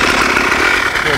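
A mini motorcycle engine runs close by with a steady, buzzing drone, loud and unbroken for a brief moment, while a voice talks over it.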